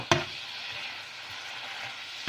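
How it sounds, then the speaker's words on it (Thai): Big shrimp stir-fried with beans in a hot pan, a sharp clatter at the start followed by a steady, close, hissing sizzle that holds for a couple of seconds. "ผัดกุ้งใส่ถั่ว"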